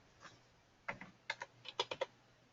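Quick keystrokes on a computer keyboard, a short burst of about a dozen light clicks in two clusters, close and fairly quiet with no speech.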